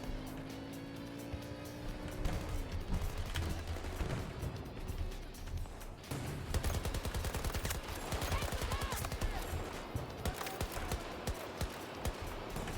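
AKS-74U submachine gun firing in a video game: dense, rapid automatic bursts that run almost continuously and loud, mixed with engine rumble and battlefield din.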